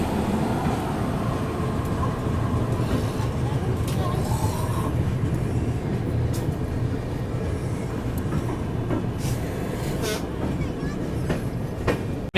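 The Kalinga Utkal Express, running six hours late, pulls out of Hazrat Nizamuddin station with a steady rolling rumble and rhythmic wheel clatter from inside the train, plus a few brief squeals and murmured voices in the background.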